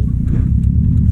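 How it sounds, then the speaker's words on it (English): A car is put in gear and pulls away, a loud, close, low engine rumble holding steady over a brief moment. "now we can put our car in gear and go"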